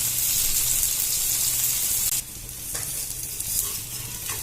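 Adai dosa fries on a pan with a loud, bright sizzle that suddenly drops as the dosa is flipped, then softer frying and a few light scrapes follow.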